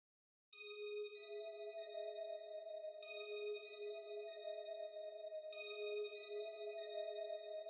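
Love Chimes synth preset in Omnisphere, a soft sustained chime tone that enters suddenly and holds, with shimmering bell-like overtones shifting gently every second or so, clean and alone without talk.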